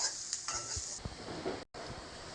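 Onions sautéing in a pan with a tomato and chili mixture, giving a quiet, soft sizzle broken by a few light scrapes and clinks of stirring, with a brief dropout near the end and no talking.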